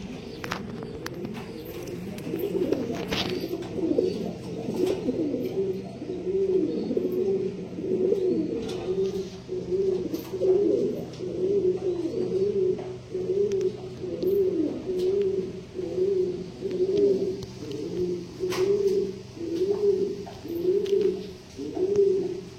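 Fancy pigeons coo in a village breeding loft, a long series of rhythmic, throaty rolling calls repeating close by at moderate level, with scattered faint clicks and rustles in the background.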